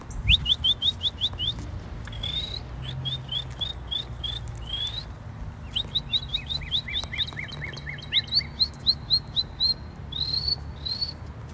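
Bright, high bird chirps come in quick repeated bursts and short trills, fairly close, over a quiet background hum with no talking.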